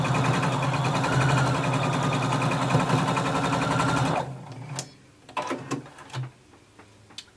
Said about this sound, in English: we're going to sew to the shoulder and stop